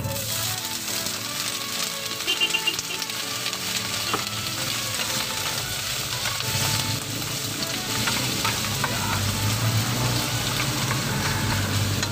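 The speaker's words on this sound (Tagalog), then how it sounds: "umpisa na nga natin lutuin ang ating mushroom" Oyster mushrooms fry in butter with a steady, loud sizzle and crackle that continues unbroken throughout, with occasional stirring scrapes and no talk over it.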